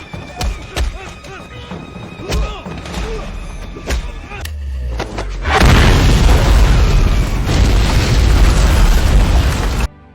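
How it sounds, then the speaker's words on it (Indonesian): A bomb carried in a bag detonates and destroys an entire building, a massive roaring blast with dense rumbling debris that follows scattered sharp bangs and voices. "Ia membawa bom di dalam tasnya dan seketika bom itu pun meledak menghancurkan seluruh"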